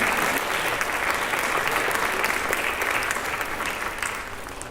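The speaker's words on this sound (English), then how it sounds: "Let's give a huge round of applause to Chethan." Audience at a Bharata Natyam arangetram dance recital applauding a performer, a full, steady roar of clapping that stays loud and fades slightly near the end.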